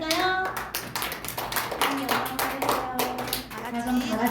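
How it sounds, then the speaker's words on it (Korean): Children clap together in a church after a call to give glory, a dense burst of hand claps running steadily throughout, with a few voices mixed in. "다 같이 영광의 박수를 올려드릴까요?"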